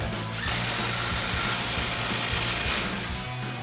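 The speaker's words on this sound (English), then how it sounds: "Now we can tighten down the clamp for our crossover pipe." Clamp on an F-150 dual exhaust crossover pipe tightened with a power tool, a close, loud continuous whirring buzz with a rattling low pulse, slowing briefly near the end, no voices.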